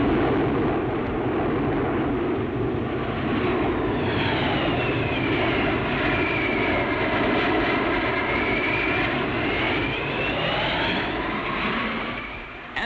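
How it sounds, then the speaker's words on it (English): Propeller and jet aircraft of an RAF aerobatic display team roar overhead at an air show, a loud continuous engine drone that swells and shifts pitch as the planes wheel past, with no voices. "As the planes wheel and turn"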